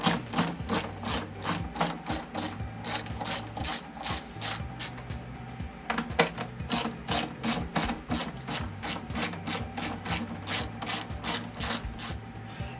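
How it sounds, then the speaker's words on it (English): Screws being unscrewed on a BMW R1250 GSA motorcycle with a ratcheting tool, a rapid steady series of close, crisp metallic clicks repeating for several seconds, with a brief pause midway. "just release these 2 screws"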